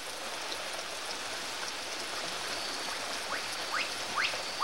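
Rain falls steadily in a forest, a dense, even hiss heard up close, with faint birdsong chirping in the background.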